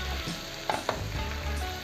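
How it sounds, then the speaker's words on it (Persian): Split peas and tomato paste fry in a pan for an eggplant gheimeh stew, giving a steady close sizzle with two brief stirring knocks partway through and no talk. "موقعی که یعنی با لپه و رب دارید تفت میدید، اون موقع حرارت رو زیاد میکنم"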